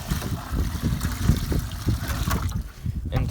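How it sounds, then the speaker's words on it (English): Maple sap poured from one bucket into another outdoors, a continuous sloshing, splashing gush with irregular bursts of liquid, fairly loud and close, with wind noise around it. "So what we're gonna do is pour half of this off into another bucket"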